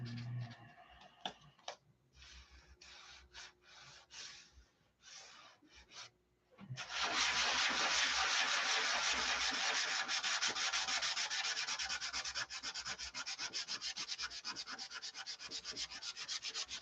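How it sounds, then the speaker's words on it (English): A float being sanded by hand: a few scattered scrapes and rubs at first, then steady, rapid back-and-forth abrasive rasping, close and continuous, with no voices. "But you gotta sand it all back off."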